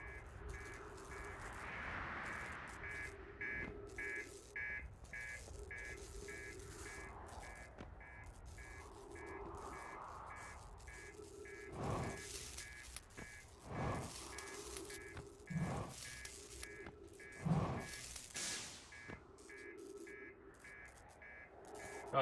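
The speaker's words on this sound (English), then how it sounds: "Sounds beeping real bad though." A spaceship's warning alarm in the video game Outer Wilds gives repeated regular electronic beeps, steady and fairly faint, while sharper clanks and thuds from the ship break in over the second half.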